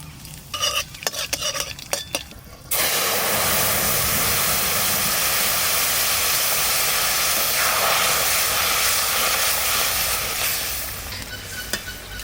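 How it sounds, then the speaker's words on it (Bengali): Black cumin seeds dropped into hot mustard oil, a loud steady sizzle and crackle that begins suddenly after a few seconds of stirring and clatter and then holds close and constant. "সর্ষের তেল, কালো জিরা ফোড়ন দেবো।"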